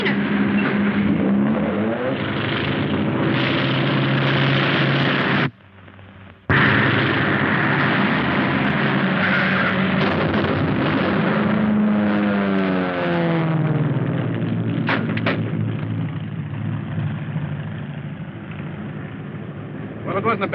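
A propeller airplane's engine roars steadily in a 1938 African adventure film, briefly cutting out, then swelling and shifting in pitch as it passes, with people talking over it.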